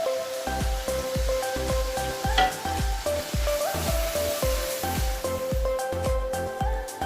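Green chillies added to a frying pan for dhaba-style dal chana, with a steady sizzle of hot oil under a rapid run of rhythmic thumping and clattering from stirring, loud and close throughout.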